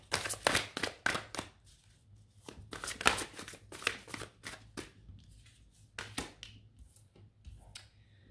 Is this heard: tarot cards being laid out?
yes